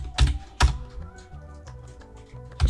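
Someone types on a computer keyboard while entering revenue figures for a financial statement, giving a few heavy taps spaced apart over a faint background hum.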